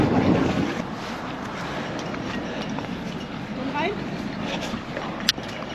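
Wind buffets the microphone aboard a boat near Lemmer with a low rumbling roar, strongest at the start, steady throughout, with a brief sharp knock near the end.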